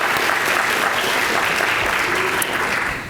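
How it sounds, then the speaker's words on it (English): A loud, dense round of applause for a planning committee from an audience at an academic library conference, many hands clapping steadily at close range before easing off at the end. "I'd like to give them a round of applause at this point in time."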